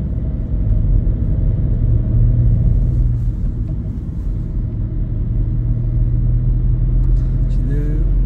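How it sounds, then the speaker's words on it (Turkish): City bus in Herning passing close by, a steady loud low engine rumble throughout with a brief rising whine near the end. "Bu gördüğünüz otobüs benim sürdüğüm otobüsler."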